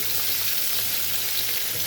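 Ingredients frying gently in a pan give a close, steady sizzling hiss with soft crackle throughout, no voices over it.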